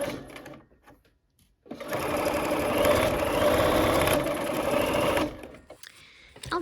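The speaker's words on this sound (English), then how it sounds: "All right, let's go ahead and sew." A sewing machine stitching quilt block pieces, a close, steady whirring hum running for a few seconds before slowing to a stop, with quiet handling noises before and after.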